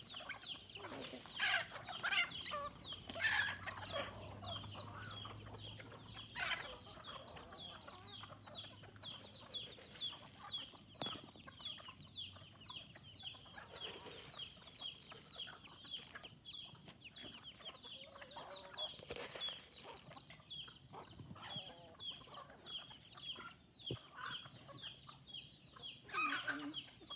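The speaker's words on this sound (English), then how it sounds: "Chickens love to fight." Chickens clucking and squawking on a balcony while being fed, with busy overlapping calls and short sharp squabbles, close and continuous with no talk.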